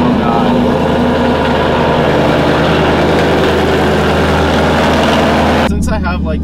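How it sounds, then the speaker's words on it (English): A car cold-starts and idles loudly inside a garage, a heavy, steady low rumble that fills the space, with a short spoken exclamation near the end. "We'll cold start. Now she is obnoxiously loud in this garage."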